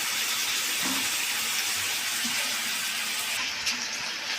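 Tap water runs steadily while vegetables such as beans, papaya, tomato, carrot and green chilli are rinsed for oil-free khichdi, a continuous close hiss with faint clinks of produce.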